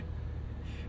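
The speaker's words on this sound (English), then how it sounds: "Dane, what's a gun that sounds like this exhaust?" Deep, steady exhaust rumble from a 2026 Cadillac Escalade V, a 682 hp V8 SUV, heard from inside while driving, holding a low continuous drone for about a second with a brief brighter rise near the end.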